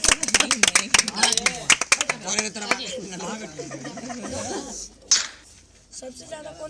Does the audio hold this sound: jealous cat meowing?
no